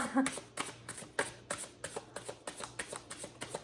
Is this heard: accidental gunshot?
no